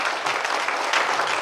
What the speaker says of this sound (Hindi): तो हम चाहेंगे अपने लिए एक बार जोरदार ताली होनी चाहिए दोस्त